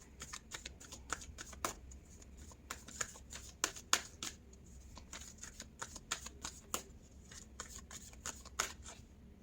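Oracle cards shuffled by hand for a tarot reading, a rapid run of crisp riffling snaps and flicks with irregular rhythm, close and fairly quiet, with no talk over it.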